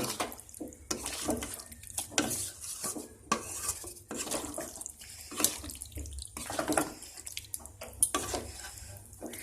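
Chicken sautéed and stirred in a pan, with repeated scraping and clinking of a metal utensil against the pan in an irregular rhythm, close and moderately quiet, alongside faint watery sizzle.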